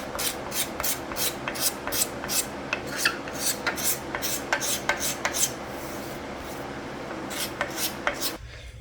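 A rasp or scraper works over a wooden five-string bass guitar body, smoothing out tool marks: steady, close rubbing strokes in an even rhythm of about two per second, ending abruptly near the end.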